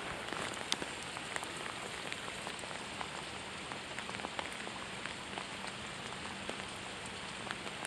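Rain falls steadily while bass fishing outdoors, a dense hiss of drops with scattered sharper patters of individual drops striking nearby surfaces.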